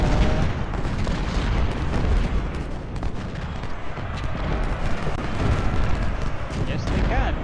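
Musket volleys and artillery booms from an infantry regiment in the Civil War strategy game Ultimate General: Civil War, a dense continuous battle roar of overlapping shots and blasts with voices underneath.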